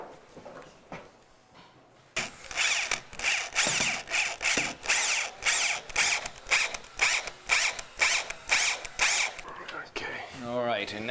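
A power drill fitted with a 3/8 Forstner bit bores holes in wood, heard up close as a series of rhythmic grinding pulses. It starts after a quiet, murmured stretch of speech.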